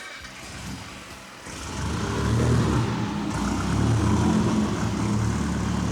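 A 1930 Bentley with a 4.5-litre supercharged engine runs nearby, a dense, throaty mechanical roar that swells after a second and then holds steady and loud.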